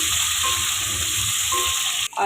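Boiled potatoes with cumin frying in oil in a pan for a potato and egg curry, a dense, loud, steady sizzle that cuts off abruptly near the end before resuming, with no talk.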